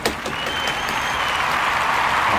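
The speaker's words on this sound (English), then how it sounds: "Everybody welcome Jonas." An indoor audience claps steadily to welcome a guest, a dense continuous wash of applause at moderate distance with no single voice standing out.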